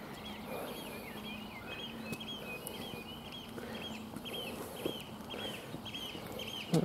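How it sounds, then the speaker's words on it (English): A bird calls repeatedly, chirping and squawking at moderate distance over a faint outdoor background hum, with a few sharper calls toward the end. "Noisy bird."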